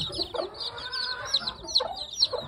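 American gamefowl, brown red chickens, cluck close by in a barnyard in early spring snow, with a steady run of overlapping clucks and chirps and a few louder calls.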